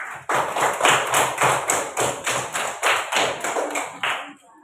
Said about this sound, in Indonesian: Tepuk tangan buat visual 2.